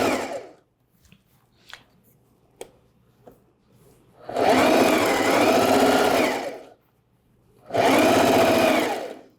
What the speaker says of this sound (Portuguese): Depois você usa o próprio overlock como guia para fazer a costura